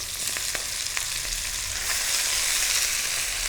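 Savoy cabbage with garlic sizzles steadily in hot extra-virgin olive oil, a dense broadband frying hiss with a few soft stirring clicks early on, growing slightly louder toward the end, no voices.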